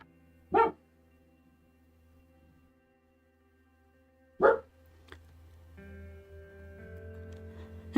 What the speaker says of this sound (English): of course that sets off the dogs in the neighborhood